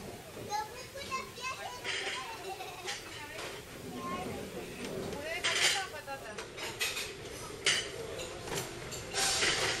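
Clinking plates and cutlery at a buffet aboard the Scandlines ferry Watling Street, with scattered clatter under a busy mix of voices and children chattering nearby.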